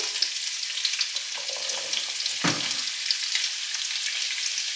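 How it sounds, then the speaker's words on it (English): Chopped onion sautéing in lard in a hot pan, giving a steady, bright sizzle with a single clatter partway through as the pan is stirred. "we're going to saute the onion"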